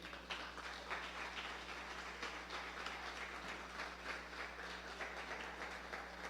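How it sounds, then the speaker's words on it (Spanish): Congregation applauding in a church service, a steady dense wash of many hands clapping without pause, fairly distant and even in level, with a low steady hum underneath. "Denle un fuerte aplauso al Señor."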